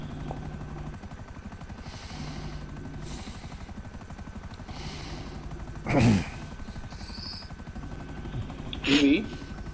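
A stealth helicopter in GTA V Online flies with a steady, mid-level rotor drone throughout. Two brief louder bursts stand out over the hum, and people talk over it in German.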